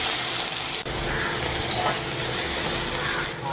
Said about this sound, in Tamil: வெங்காயத்தை நல்லா பொன்னிறாகிற வரைக்கும் நல்லா வறுத்துக்கணும்.